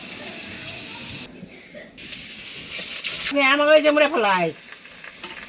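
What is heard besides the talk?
pangas fish frying, marinated with turmeric, salt and chili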